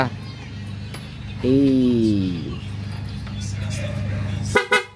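A loud aftermarket horn installed on a Yamaha R15 V4 motorcycle blares once for about a second over a low idling hum, then a few short clanks follow near the end.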